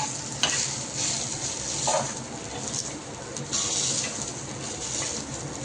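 Masala with peanuts and tomato fries in a pan, a steady close sizzle broken by scraping stirs and light spoon knocks.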